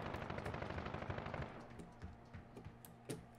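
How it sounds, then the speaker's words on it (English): Rapid bursts of explosive sniper rifle gunfire from a video game, a dense volley of sharp cracks easing into separate distinct shots, close and loud, with no talking. "It's that new sniper that explodes."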